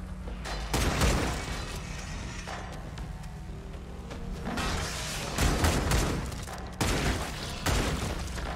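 Shotgun blasts go off in the video game Redeemer amid combat, a string of loud booming shots with crashing impacts and scuffles spread irregularly across the stretch.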